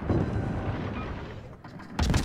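A torpedo striking a ship in World of Warships: a loud, rumbling explosion at the start that fades off, then a fresh heavy burst of blast noise right at the end.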